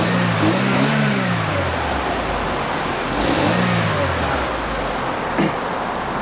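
A Chevrolet Cruze engine in a repair garage, with its immobilizer cancelled on an MT80 control box, starts and revs in two rising-and-falling swells over a steady idle, loud and close, with a short knock near the end.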